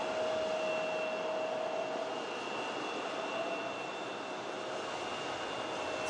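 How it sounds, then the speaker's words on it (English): Engines of an Embraer E170 jet airliner operated by Air France Hop, heard as a steady, loud broadband roar with faint tonal whines, constant throughout with no talk, in rainy conditions. "It's a diddy little plane. Embraer E170."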